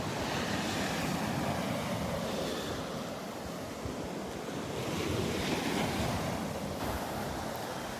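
Ocean surf breaks on a sandy Gulf beach at Delnor-Wiggins on a Sunday morning, a steady washing roar with gentle swells and wind noise on the microphone, and no talking.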